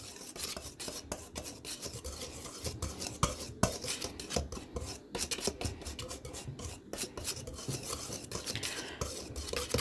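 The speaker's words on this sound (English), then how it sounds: "You're going to want to stir it around for probably like a minute and a half to 2" A utensil stirs and scrapes through salt and flour in a bowl for sugar cookie dough, a close, quiet, continuous gritty rasping with irregular rhythm.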